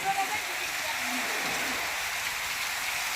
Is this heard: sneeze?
no